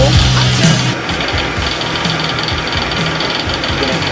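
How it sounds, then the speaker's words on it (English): Variable-speed wood lathe running fast at roughly 1600 to 1800 RPM for rough turning, giving a steady loud motor hum with a rhythmic thumping knock throughout, no talk. "I'm going to run the lathe at a fairly fast speed, about 16 or 1800 RPM on the variable speed control."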